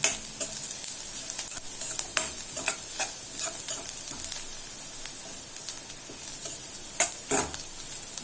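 Onions sautéing in a pan for a radish thokku crackle with a steady sizzle, while frequent sharp scrapes and taps of stirring punctuate it close up, and nobody speaks.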